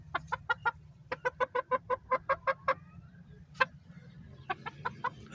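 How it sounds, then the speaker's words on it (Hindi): A hen in a backyard coop clucks in quick rhythmic bursts, a steady run of sharp repeated calls followed by a pause and a few more clucks, close and clear over low background hum. "वो मुर्गी आ गई बाहर, खुद ही आ गई है"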